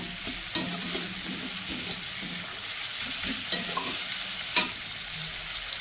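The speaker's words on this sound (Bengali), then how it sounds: "পেঁয়াজগুলো ভাজা ভাজা হয়ে গেছে" Onions sizzling and frying in a pan, a steady crackling hiss with occasional louder pops and scrapes of stirring.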